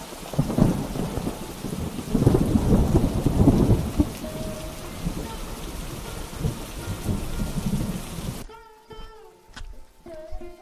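Heavy downpour roars steadily with deep rumbles of thunder, loud and close, before cutting off abruptly near the end.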